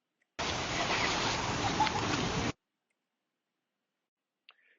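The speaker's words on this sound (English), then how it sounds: "Or we can include splashing water with the sound of water splashing." Water splashing in a steady, dense rush of hiss and spatter that lasts about two seconds and then stops abruptly, followed by silence and one faint click near the end.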